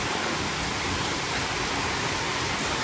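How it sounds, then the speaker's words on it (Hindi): Heavy rain pours steadily in Chhattisgarh, a dense, loud, unbroken hiss of water falling on surfaces that fills the whole stretch with no voices. "इतना पानी गिर रहा है, बारिश हो रहा है"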